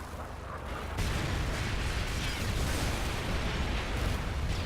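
Dense, continuous battle noise from Call of Duty: Modern Warfare 3 on the Dome map, with grenade explosions and gunfire merging into a loud, unbroken roar that grows heavier after the first second.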